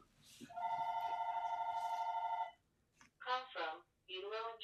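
A home telephone rings in a house, one sustained electronic warble lasting about two seconds, fairly close and clear, followed by someone speaking afterward.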